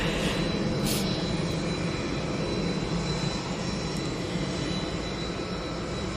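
A jet airliner taxiing at Manchester Airport, a loud steady engine roar close by that holds evenly throughout with a broad rumbling body.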